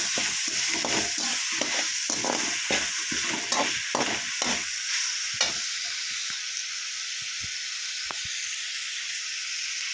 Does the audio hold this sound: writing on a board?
no